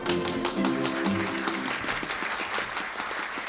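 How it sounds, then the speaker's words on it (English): Studio audience applause on a Golden Age radio show honoring Edgar Bergen Day in Decatur, Michigan, a dense, loud wash of clapping that holds steady throughout, with faint underlying tones. "God bless you all for that applause"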